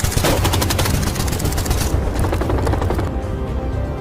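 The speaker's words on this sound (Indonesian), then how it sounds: "menerima rentutan peluru brutal yang ditembakkan" Rapid gunfire from an action film set during a masked robbery: a dense, loud burst of automatic shots rattles steadily for about two seconds, then continues as a slightly thinner, echoing volley.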